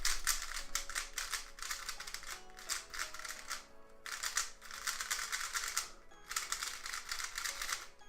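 A Cubicle Premium Aolong v2 speed cube being turned, with rapid crisp clicking layer turns in several quick bursts separated by short pauses, close and fairly quiet.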